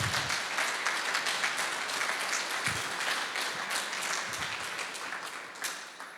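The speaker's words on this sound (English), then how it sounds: "Please give them a huge applause." An audience at an artist talk gives a warm round of crowd applause to welcome two artists, dense and continuous, easing slightly toward the end.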